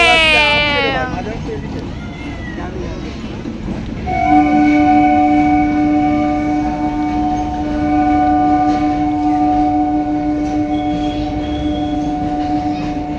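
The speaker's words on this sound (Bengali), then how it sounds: "এই তো ট্রেন আসছে মিঠাই, ট্রেন দেখো।" A passing train sounds a long, loud, sustained horn over its rolling rumble, close by, after people talk excitedly nearby at the start.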